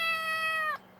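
A tiny black kitten found in a tree gives one clear, close, high meow lasting under a second, then falls silent.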